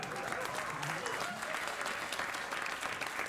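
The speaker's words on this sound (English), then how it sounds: "Half of you clapped" A late-night talk show studio audience gives steady, dense applause that stays even and full for several seconds, with no pause and no voice standing out.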